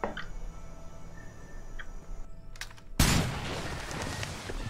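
Quiet video game ambience in a jungle with faint ticks gives way to a sudden burst of gunfire, followed by continued noisy shooting.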